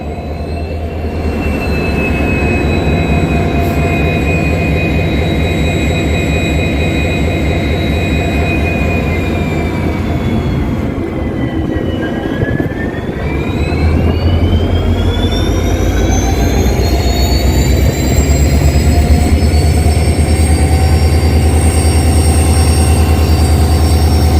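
An ALCO diesel locomotive engine runs steadily and loudly with a deep throbbing rumble and whining tones that dip and then rise again, heard up close with no talk.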